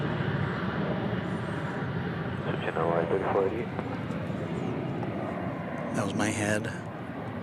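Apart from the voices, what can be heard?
airplane moving at DFW Airport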